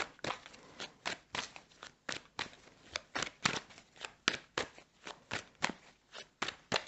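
Quiet, repeated riffling bursts at an even, brisk pace, like cards being shuffled and handled close up, with no voices.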